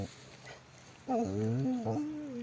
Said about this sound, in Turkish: Böyle değişik bir köpek.